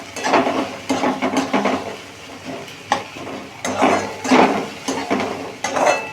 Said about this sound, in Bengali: পেঁয়াজটা একটু হালকা ভেজে নিতে হবে